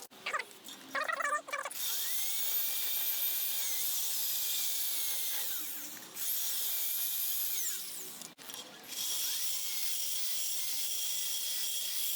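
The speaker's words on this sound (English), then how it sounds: "we're going to go back and forth with the carbide bit and dig a trench in there" A carbide bit in a high-speed rotary grinder cuts a trench into the port of a Ford Mustang 5.0 302 lower intake manifold, a sustained shrill whine with brief pauses and pitch dips as it moves back and forth, up close.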